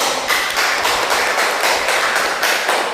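Children clapping together in a classroom, a dense, loud, continuous patter of hand claps close by, with no speech over it.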